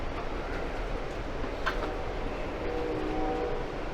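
A steady rumble and rattle of an Amtrak train rolling along the rails, heard from inside a car, with a faint horn-like tone near the end.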